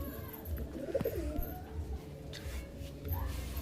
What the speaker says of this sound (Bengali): তোমাদের ছেড়ে দেখায় পায়রা দুটো